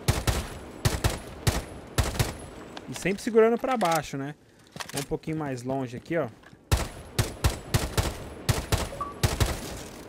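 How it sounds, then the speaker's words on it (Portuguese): Short bursts of gunfire from a Rainbow Six Siege match, likely the operator Hibana, crack in quick three-to-four-shot groups near and loud, broken by a stretch where someone talks over the game. "Então você tem que estar dando umas leves rajadas aí de uns 3, 4 tiros"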